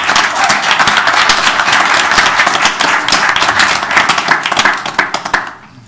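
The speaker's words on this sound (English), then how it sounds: "one last round of applause for Narragansett Elementary" A board of education meeting crowd gives Narragansett Elementary a loud round of clapping that holds steady for about five seconds before tapering off.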